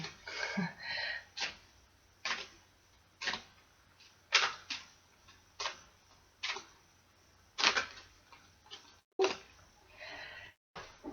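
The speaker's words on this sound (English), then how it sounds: "Still shuffling." A deck of angel cards is shuffled by hand, a series of separate short riffling bursts about once a second, close and moderately quiet with brief pauses between them.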